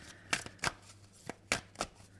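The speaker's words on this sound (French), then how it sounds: "on va prendre justement une carte du tarot Vision Quest" Tarot cards from a Vision Quest deck being shuffled and drawn, giving about six crisp riffling flicks in an uneven rhythm, close and fairly quiet with no voices.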